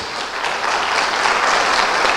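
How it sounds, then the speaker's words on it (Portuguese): A congregation at a church service applauds the priests, a steady, dense wash of clapping filling the whole stretch without letup. "Aplauda os sacerdotes."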